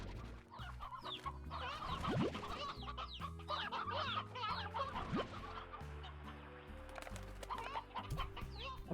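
Chickens in the video game Slime Rancher cluck steadily and close by over a layered game soundtrack, with short squawks rising above the music.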